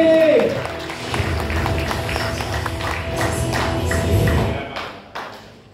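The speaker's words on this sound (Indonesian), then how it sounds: "Aplaus yang meriah buat Bapak Dodi Handoni." Audience clapping and applause at a business seminar for a speaker, a steady, dense patter of hands that fills the room and tapers off at the end, with some voices mixed in.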